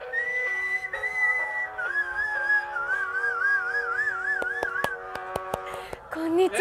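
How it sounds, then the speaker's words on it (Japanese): Finger whistling in a park: bright, clear wavering tones rise and fall over several seconds as a melody, with a few sharp clicks near the end. "今のはね、はい、指笛って言いましたね"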